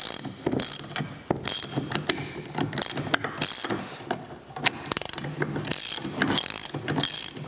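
A ratchet tightens the threaded back piece of a Beverly B2 throatless shear during restoration, giving rapid, close metallic clicking in uneven bursts with short pauses between strokes.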